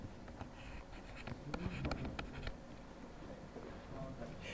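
A teacher sketches a force diagram by hand during a physics lesson on vertical circles, giving close, irregular scratchy pen or marker strokes in short bursts with small pauses between them.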